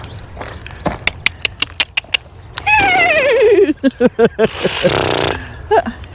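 Horses whinny loudly nearby, a long descending neigh followed by shorter calls, mixed with rhythmic clip-clop and snorting sounds.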